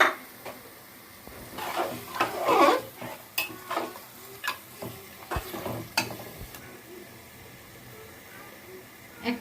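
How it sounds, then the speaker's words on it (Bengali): Bay leaves sizzle in hot oil in a pot for tehari, a crackling hiss with scattered metal clinks of a spoon against the pan, close by, loudest early then easing. "কয়েকটা তেজপাতা ছোটো ছোটো তেজপাতা চার পাঁচটা তেজপাতা দিয়ে দিলাম"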